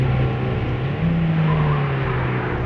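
Video game car engine running steadily at close range, a continuous droning hum with a slight pitch rise partway through and no pauses, no voices.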